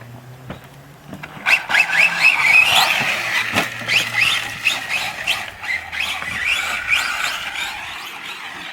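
Used R/C truck driven on a shakedown run, its electric motor whining and rising and falling in pitch with tire scuffs and squeals, loud and close with no talking.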